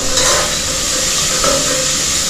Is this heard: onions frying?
yes